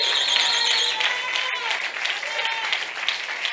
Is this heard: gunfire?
no